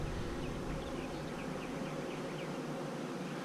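Bees buzz in a dense, continuous drone while a swarm is installed into a hive, steady and close with individual bees flitting past.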